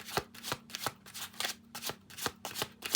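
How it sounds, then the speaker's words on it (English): A deck of tarot cards is shuffled in quick repeated riffles, crisp snapping bursts close by with a faint hum underneath. "I got better at my shuffling."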